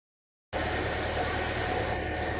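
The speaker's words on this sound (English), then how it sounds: "Now you can see that the car is running and the engine is driving this pump" A car engine starts from silence and settles into a steady idle, driving the power steering pump on a car with a steering pull fault. It gives a constant close rumble with a broadband whir, and no voices.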